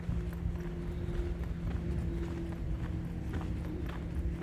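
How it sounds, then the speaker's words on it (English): Hooves of several horses clip-clop on the ground at a Florida ranch in the morning, a busy, irregular patter of steps under a low hum, with no talking. "These are just some beautiful horses."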